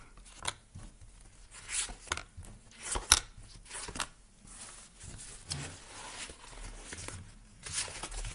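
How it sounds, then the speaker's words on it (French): Tarot cards are spread across a table in a series of soft, quick swishes and slides with occasional light taps, close and fairly quiet, repeating irregularly with no talk. "j'étale les cartes"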